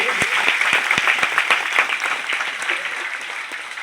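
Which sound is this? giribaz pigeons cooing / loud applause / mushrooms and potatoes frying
loud applause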